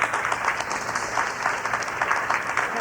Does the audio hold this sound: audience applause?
yes